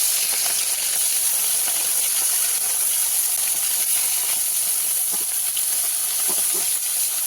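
Marinated katla fish fries in hot oil with a loud, steady hiss that holds without pause, close up, with faint pops and no talking.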